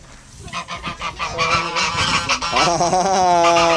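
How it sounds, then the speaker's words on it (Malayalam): Geese at a farm house in Ras al Khaimah, UAE, honk loudly and close by in a continuous, overlapping chorus of repeated calls. "അരയണ്ണം."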